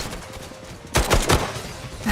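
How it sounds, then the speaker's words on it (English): Several loud, sharp gunshots crack close by in quick succession in a narrated dramatic scene, two clustered bursts then another. "Don't these gunshots sound good?"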